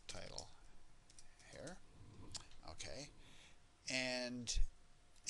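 Light, quick computer keyboard typing at a desk, soft and close, with a person talking quietly over much of it.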